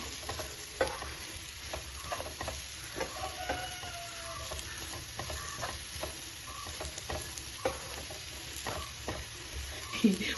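Chicken frying with crushed black pepper and a little fennel powder, stirred steadily in the pan for a Kerala-style chicken ularthu: a constant low sizzle broken by frequent scraping and clicking strokes of the spoon, close up, with no talking.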